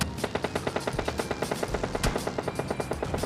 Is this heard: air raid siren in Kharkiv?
no